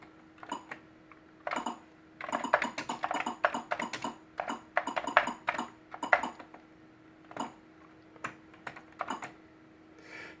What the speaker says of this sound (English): This is what happens when you try to type one-handed.